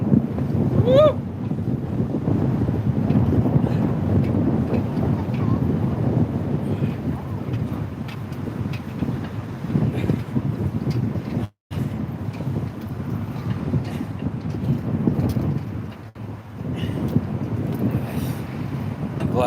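Strong wind blows outdoors as a steady, heavy buffeting rumble against the microphone that continues throughout, with someone talking now and then over it.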